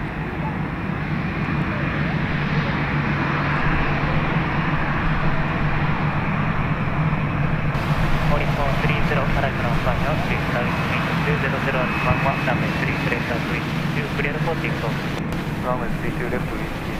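Large airliners take off in a left crosswind at Itami Airport, a continuous loud, rumbling jet roar that holds throughout, with voices faintly underneath.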